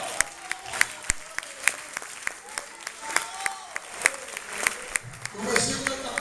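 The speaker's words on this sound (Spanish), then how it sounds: "Den un aplauso al Señor" Congregation clapping to the Lord during an evangelical church campaign service, a steady run of sharp, fairly loud claps with a rising swell of voices near the end.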